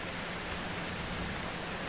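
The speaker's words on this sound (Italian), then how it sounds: "Piove sangue." Steady, even rainfall in the horror game Outlast 2, a soft continuous wash of falling water with no distinct drops or other sounds.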